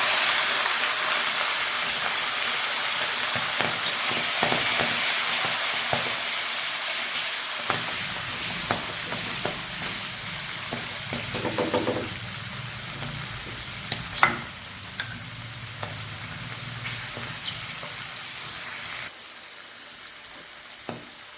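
Green peas tipped into shredded cabbage frying in a pan, giving a steady close sizzle and hiss with a few clinks and stirring scrapes partway through, no voices.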